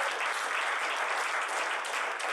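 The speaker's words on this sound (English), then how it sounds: "it's okay to applaud that." A live audience breaks into sustained applause, steady clapping from a crowd filling the whole stretch without pause.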